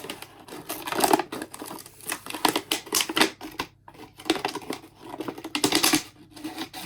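Scissors cutting the top off a plastic bottle for a children's craft activity, giving repeated bursts of crisp snipping and crinkling plastic in close, uneven clusters with short pauses between them.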